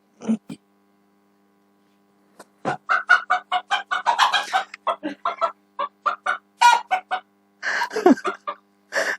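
Bursts of loud, rapid clucking and squawking calls from a rooster or similar fowl, coming in choppy runs after a brief pause, close to the microphone.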